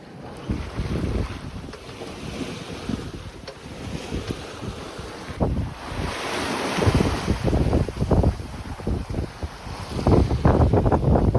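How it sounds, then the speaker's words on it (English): Ocean waves swish and break against a moving small sailboat, with wind buffeting the microphone and water surging in uneven bursts. "we watch the waves go by"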